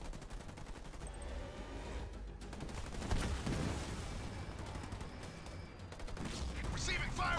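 Gunfire rattles in a Halo Wars 2 match played as Captain Cutter: continuous bursts of automatic fire and blasts over a dense battle din, with unit voice lines spoken over it.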